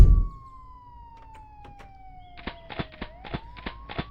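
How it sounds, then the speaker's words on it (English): A video game police siren wails in a steady, slowly falling tone, joined by short rhythmic electronic blips and chirps; synthetic and fairly close, with no talking. "Do I hear police sirens?"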